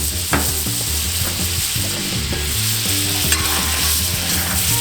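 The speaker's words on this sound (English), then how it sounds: "Now we're gonna put some butter in here." Butter melting and sizzling on a Camp Chef griddle after bacon has been cooked, a continuous close frying hiss with steady stirring and scraping and occasional spatula taps.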